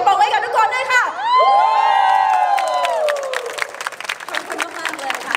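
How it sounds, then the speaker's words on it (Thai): An audience at a cooking workshop claps and cheers, with whoops and excited shouts ringing over the crowd before the noise breaks into scattered clapping and chatter. "ขอเสียงปรบมือกับทุกคนด้วยค่ะ"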